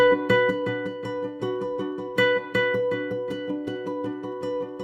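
Plucked nylon-string guitar notes roll through a repeating triad arpeggio, each note echoed by delay repeats that blend into a shimmering, steady pattern.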